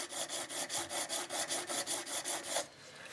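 Steady back-and-forth filing on peened, mushroomed brass pins of a handmade folding knife, about a dozen even rasping strokes close up, then stopping.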